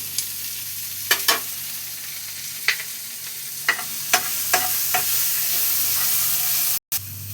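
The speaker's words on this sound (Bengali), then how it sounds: "এবার এতে একটু টমেটো কাটা, টমেটো কুচি দিয়ে দিচ্ছি।" Chopped tomato tumbling into a frying pan of onions for a katla fish curry with spinach: a steady sizzle throughout, with several sharp scraping knocks of a spatula spaced across it, ending in a brief dropout.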